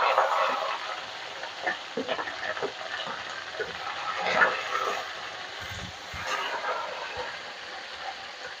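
Onion and green chili frying in a pan, a steady soft sizzle with occasional louder crackles and stirring scrapes, close and moderately quiet.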